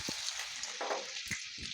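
Garlic dropped into hot oil for veg Manchurian gives a steady, close sizzle and hiss that runs without a break, with a few small pops and the soft scrape of stirring.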